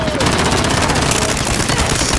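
Rapid continuous gunfire in Call of Duty Modern Warfare, a dense, loud automatic burst rattling without pause throughout, with a voice talking faintly underneath.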